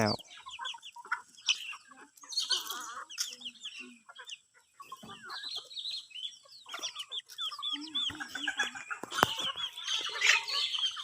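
Chickens, including young birds, gather to eat in the early evening before roosting, giving off steady soft clucks and scattered calls at close range, with a few louder bursts throughout.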